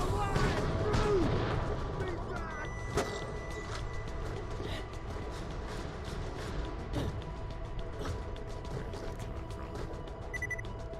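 Gunfire in the video game Borderlands: The Pre-Sequel, with repeated sharp shots and impacts over a busy, dense game soundscape. Bursts recur irregularly throughout, fairly loud, with a player's voice talking at times.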